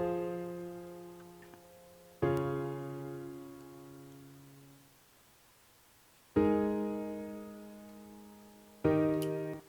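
Supersaw synth chords played as plain three-note triads in FL Studio, three separate sustained chords with sharp attacks, each ringing out and slowly decaying, alone and fairly quiet.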